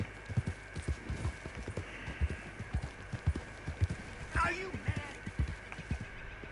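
Horse hooves clip-clopping at a steady walking rhythm while ridden outdoors during a hunt, moderately near and quiet, with someone speaking over the steps.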